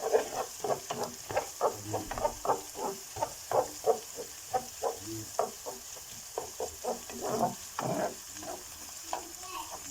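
Tomato paste being stirred into onions and peppers frying in a pan, rhythmic spatula scrapes and bursts of sizzle repeating roughly every half second over a steady background hiss.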